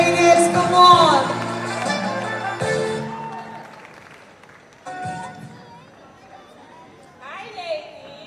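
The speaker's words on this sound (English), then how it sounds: "with a loud applause, please welcome Financial Jennifer" Loud audience applause greets a speaker taking the stage at a ladies' event, starting over tonal music and then thinning into scattered clapping and crowd noise with some voices mixed in.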